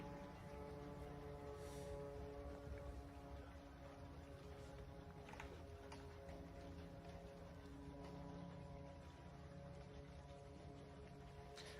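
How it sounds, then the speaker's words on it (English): A drone flies somewhere beyond Moscow's western outskirts, a steady tonal engine hum that stays level and faint throughout, set under constant broadband background noise with no talking. "We hear the drone faintly in the distance as it's flying through the area on the very western outskirts of Moscow"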